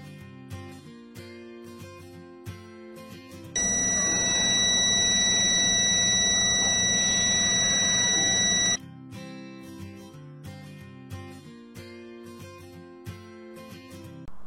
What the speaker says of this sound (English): we can do a continuity testing on it. For that we can make use of multimeter in continuity mode